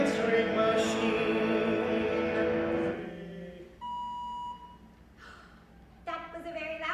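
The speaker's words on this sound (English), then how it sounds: "That was a very loud beep." An answering machine gives a single loud, clear electronic beep lasting under a second, heard just after singing voices fade and before another voice begins speaking.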